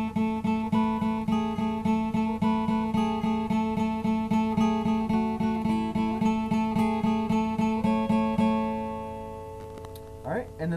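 A guitar plays the first half of a song's riff: a steady, close run of picked single notes over a sustained low drone, ringing out near the end before a brief scrape.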